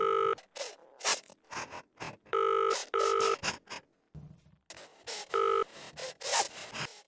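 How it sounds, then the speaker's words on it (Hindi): A telephone is dialed in an audio drama, a run of sharp electronic keypad tones in uneven bursts mixed with rustling and scraping handling noises, close and clear with no talk over it. "मीना रोते हुए अपने कमरे में चली जाती है और रेहान को फ़ोन लगा लेती है।"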